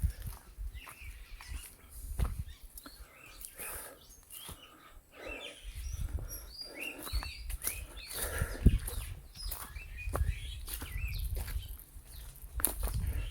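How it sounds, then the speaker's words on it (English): Bird chirps and calls on a mountain trail on Saipan, scattered faint tweets against wind and footsteps on the path, some low rumbles underneath, no talking. "Hear the birds."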